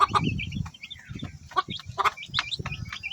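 Black chickens kept as farm animals cluck in short, repeated bursts, close by, with scattered chirps and soft scuffling between calls.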